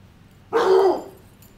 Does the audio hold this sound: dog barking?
yes